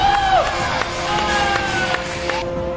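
Studio audience applause and cheering at a televised singing competition, a dense, steady crowd roar with clapping and whoops that fills the whole stretch, with a voice briefly audible over it.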